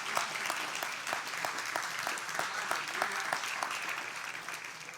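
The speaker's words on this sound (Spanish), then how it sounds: "Dele palmas al Señor." A church congregation claps for the Lord at a Bible study, steady dense clapping with distinct sharper claps popping out, loud and continuous throughout.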